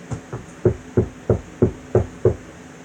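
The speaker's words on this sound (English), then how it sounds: "Mario knocked on the door." A door being knocked on, seven fairly even, solid raps in a steady rhythm, close and clear with nothing else around them.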